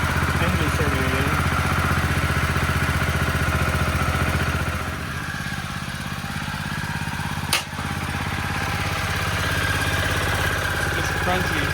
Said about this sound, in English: engine starting again.